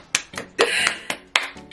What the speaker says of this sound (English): They get a hand clap from me